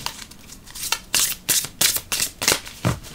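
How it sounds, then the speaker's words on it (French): Oracle cards being shuffled by hand, a quick run of crisp riffling bursts and soft slides, close and clear with no talk over them. "On va tirer 2 cartes ici."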